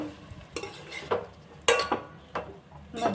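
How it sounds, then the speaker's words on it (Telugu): A utensil scrapes and clinks against a pan as frying food is stirred, a few irregular strokes over a soft sizzle. "మధ్యలో కలుపుకుంటూ ముక్కలు ఫ్రై అయ్యేలా ఉడికించుకోండి."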